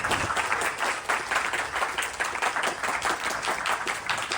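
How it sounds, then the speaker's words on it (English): Audience applause at a Ganesh Chaturthi celebration for the Aryan Spiritual Center, many hands clapping steadily in a fairly distant, roomy wash with no speech. "Please give the Aryan Spiritual Center a huge round of applause."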